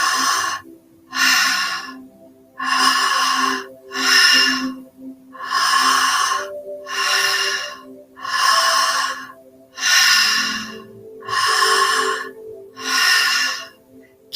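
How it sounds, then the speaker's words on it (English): Slow, deep breaths in a guided breathing exercise, each long audible inhale and exhale rushing through the airway in a steady rhythm of about eight cycles, close and clear with no talking. "Focus on your breath, the circle. Focus on the breath."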